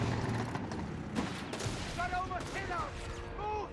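Vickers machine gun fire chatters in Company of Heroes 3 amid a dense, muffled battlefield din, and distant bursts mix with other combat noise under a caster's commentary.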